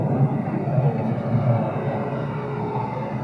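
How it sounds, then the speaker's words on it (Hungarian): A Cessna 206 floatplane flies overhead, its engine a steady, moderately loud propeller drone mixed with the murmur of a crowd and city background, continuous with no clear rise or fall. "Cessna 206-os"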